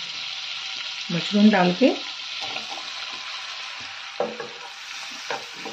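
Mushrooms fry in oil and butter in a kadai with a strong, continuous sizzle, and a louder crackling burst as they hit the pan and are stirred. A voice speaks briefly over the cooking.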